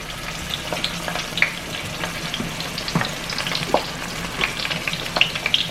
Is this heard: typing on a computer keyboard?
no